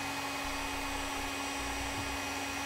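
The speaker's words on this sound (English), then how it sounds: "Now we'll use a heat gun to shrink down our butt connectors." A heat gun blows steadily while shrinking heat-shrink butt connectors on a vehicle trailer wiring harness, a continuous broadband whoosh with a faint high whine, alone and close.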